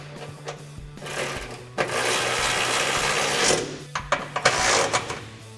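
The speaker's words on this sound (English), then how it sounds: "go ahead and tighten that down with our 13mm socket" A 13mm socket ratchet tightening exhaust bolts on a Jeep Gladiator JT, with rapid mechanical clicking and whirring in bursts, a sustained rough stretch in the middle, and sharper clicks near the end.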